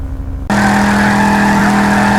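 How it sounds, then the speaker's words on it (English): General Lee car from the Dukes of Hazzard doing a burnout in Gmod, a loud steady engine roar with screeching tire squeal that kicks in abruptly after a brief quieter moment and holds continuously. "This is the General Lee from the Dukes of Hazzard, as many of you already know. It's also pretty loud, and it's more than willing to do burnouts and drifts."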